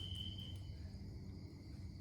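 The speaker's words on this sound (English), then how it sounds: "That's a very loud cricket." A cricket chirps loudly indoors during an interview, a steady high-pitched trill over a low background rumble, with no talk.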